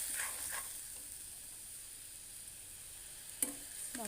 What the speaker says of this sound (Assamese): এতিয়া মাছৰ কণী ভাজিছোঁ।